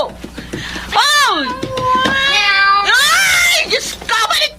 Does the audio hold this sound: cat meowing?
yes